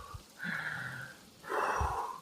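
Two slow, deep breaths close to the microphone, a long airy inhale followed by a fuller exhale, part of a calming breathing exercise for anxiety, with a brief pause between them and no talking.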